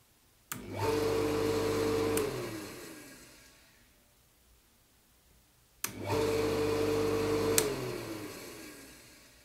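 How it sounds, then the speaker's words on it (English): A large 220V AC water pump motor switches on twice, each time surging to a loud steady hum and whir that runs for about two seconds before winding down slowly, with sharp clicks at power on and off. "now we will power it on and then we will measure the starting current of this pump"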